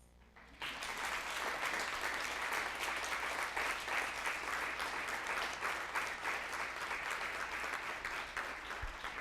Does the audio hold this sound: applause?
yes